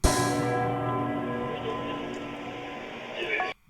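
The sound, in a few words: bell in the music track's break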